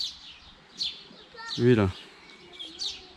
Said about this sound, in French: Ici on est tout le temps perturbé par les oiseaux.